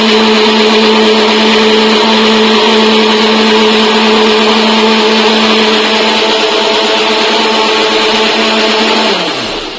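A kitchen mixer grinder blending mustard seeds into paste whines loudly and steadily for several seconds, then its motor winds down and stops at the end.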